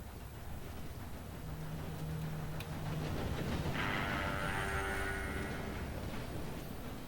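A train in Red Dead Redemption 2 approaches through a dense, continuous rumble, with a tonal horn-like blast rising over the noise midway and fading near the end.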